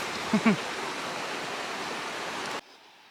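A small river flows past a large rock, a steady broadband rush of water that runs for about two and a half seconds before cutting off abruptly, with a couple of faint brief voices early on.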